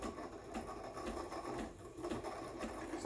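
The steam wand of a Breville Barista Express BES860 froths milk with a steady, close hiss and a faint rhythmic gurgle, continuous throughout with no talking.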